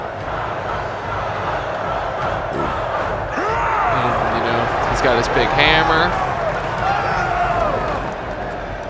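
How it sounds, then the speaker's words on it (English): Crowd roars and cheers in the Mortal Kombat 11 arena during a fight involving Kotal Khan and Shao, a steady crowd din under a voice talking over it, with the gameplay's voices and impacts mixed in. "The crowd's people are loving it."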